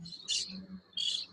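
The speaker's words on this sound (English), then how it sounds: "Got some birds behind me, sorry." Two bright, high chirps from birds in the background, each lasting a fraction of a second and separated by a short gap, faint and fairly close in an otherwise quiet room.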